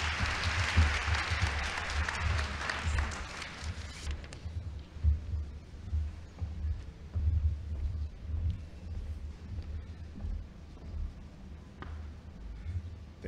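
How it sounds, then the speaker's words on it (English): An audience applauds as a speaker comes to the podium at a National Science Week launch, bright clapping for about four seconds that then drops away to a low hall hum with faint movement. "Can bring him on the podium with a round of applause."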